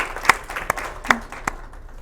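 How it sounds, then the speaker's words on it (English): Sparse applause for guest speakers at a student government senate meeting: a few distinct, fairly close claps spread unevenly over a couple of seconds. "we'll give you a round of applause"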